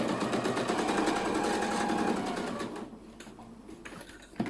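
A sewing machine runs fast, stitching small fabric scraps together for a quilt, a close, steady whirring hum that stops after about three seconds, followed by quiet handling clicks.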